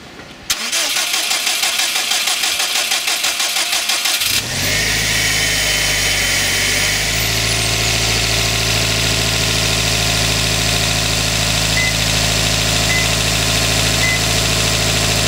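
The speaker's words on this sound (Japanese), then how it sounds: "それではちょっとエンジンかかるかやってみます。" A Subaru WRX starter motor cranks rapidly and heavily on a cheap 40B19L battery for a few seconds, then the engine catches and settles into a steady, loud idle that continues to the end.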